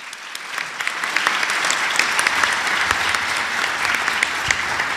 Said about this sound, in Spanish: Por favor, recibámoslo con un aplauso.